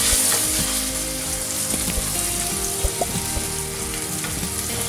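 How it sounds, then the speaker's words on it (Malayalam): Fig paste sautéing in cow ghee over a low flame gives a steady, close sizzle with soft intermittent stirring scrapes throughout, no voices. "ലോ ഫ്ലെയിമിൽ 5 മിനിറ്റ് അത്തിപ്പഴത്തിന്റെ പേസ്റ്റ് നെയ്യിൽ വഴറ്റിയെടുക്കണം."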